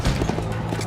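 Horse hooves clopping steadily in a Red Dead video game trailer, a close galloping rhythm under a dense, loud ambient mix, with no clear whinny standing out.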